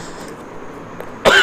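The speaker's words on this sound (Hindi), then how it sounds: "थोड़ी खांसी आ गई थी" A single sharp cough bursts out at the end after a quiet stretch, close and loud, from a man pausing while explaining exam answers.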